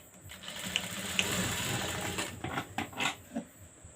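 A sewing machine joins fabric pieces for a tailored garment, running in a soft, continuous mechanical whir with faint rhythmic clicking, close and fairly quiet, with no voices.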